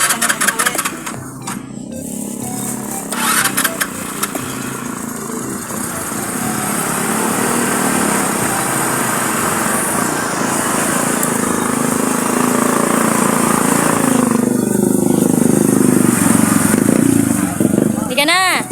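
A motorcycle engine runs steadily nearby, a buzzy high-pitched drone that holds for the whole stretch and swells slightly toward the end while people talk over it.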